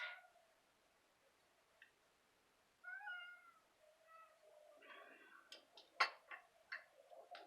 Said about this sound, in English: I was going to get my kitty, but he wants to stand by the door and mew.